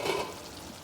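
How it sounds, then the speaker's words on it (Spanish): Tomato cooking in a frying pan gives off a soft, faint sizzle with light stirring, brief and steady, with no voices. "Aquí ya el jitomatito ya se está cocinando muy bien."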